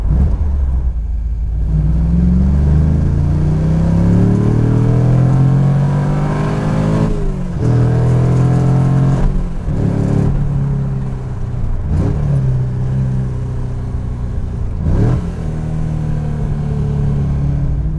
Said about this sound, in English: how the engine revs, how you can blip it and shift really quickly and it'll just take it.